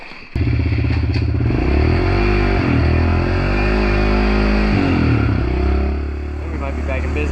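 A pit bike engine with a homemade fabricated clutch pulled in revs loudly and steadily up close after a sharp start, pitch rising and dipping, then easing toward the end; the bike is on a snowy day after a blizzard.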